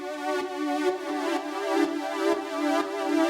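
Serum software synthesizer patch with its filter fully open, a bright, harmonically rich sustained tone pulsing in a steady repeating rhythm of about two beats per second, loud and alone with no voices.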